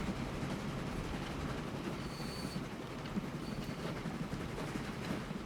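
A train runs along the tracks in the rail management game Transport Fever 2, a steady rumbling rattle with faint wheel squeals, heard at a distance and fairly quiet with no voices.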